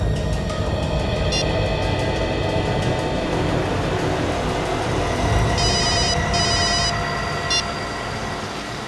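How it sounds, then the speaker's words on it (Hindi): A mobile phone rings during an outgoing call, faint repeated ring bursts over a loud constant rumble that resembles a moving train. "अपने मोबाइल से उसे फोन लगाओ"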